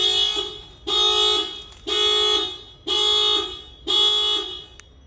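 A 2020 Subaru WRX car alarm set off by its shock sensor blares in five loud, steady horn-like bursts at a regular rhythm with short gaps between, close by and alone.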